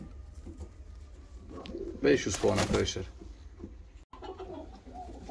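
Show and costume pigeons from an Istanbul team coo in soft, low bursts, swelling briefly louder in the middle while someone talks over them.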